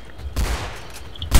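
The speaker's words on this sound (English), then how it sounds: "Why are the guns so fucking loud?" Gunfire in the dinosaur shooter Orion Dino Beatdown, a sustained volley of shots followed by a short lull and then a loud sharp burst at the end.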